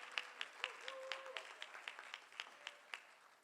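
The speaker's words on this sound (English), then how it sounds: "Hand clap, yes." Sparse audience hand clapping at a community budget meeting in New Orleans' District D, with distinct individual claps in a steady rhythm, fairly faint, and a voice heard briefly underneath.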